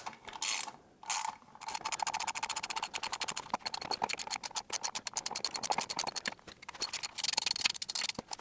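A ratchet with an extension bar is worked under the chassis rail of a Gardner Douglas 427 Mk4 AC Cobra kit car, giving rapid, steady metallic clicking in quick bursts with short pauses, close and fairly loud.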